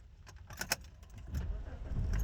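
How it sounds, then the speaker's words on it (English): Keys jingle briefly near the start, then a loud car engine rumbles low and grows steadily stronger through the rest, close by and continuous. "Excuse my loud car."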